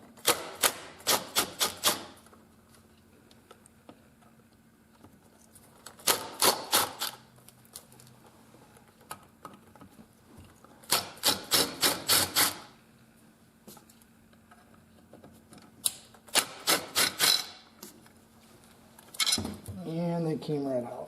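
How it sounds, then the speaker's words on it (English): An impact driver spins out screws in reverse on a Suzuki TS50 engine during a rebuild, giving several sharp rapid hammering bursts separated by quiet gaps, with a brief voice near the end. "I've got my impact driver set up here in reverse with an appropriately sized bit that fits into these screws."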